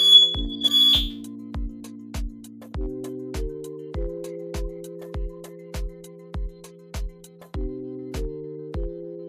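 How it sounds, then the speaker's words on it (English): Household smoke alarm beeping in a repeated pattern of loud, shrill electronic chirps, with a steady rhythm of short bursts going off indoors, no one talking. "My fire alarm is going off."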